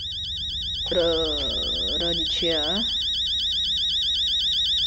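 An alarm clock rings in the Fears to Fathom horror game, Home Alone episode, with a steady electronic warble that repeats fast and loud throughout. Someone talks over it partway through.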